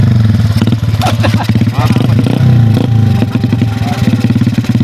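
A motorcycle engine idles and revs close by in a loud, steady throb with some clatter, while people talk over it.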